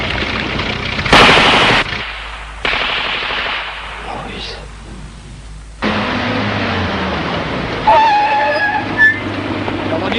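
Loud machine gun bursts firing blanks ring out in short rapid volleys of sharp cracks, separated by quieter stretches with background rumble and distant voices.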